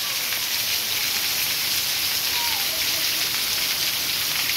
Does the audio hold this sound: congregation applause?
no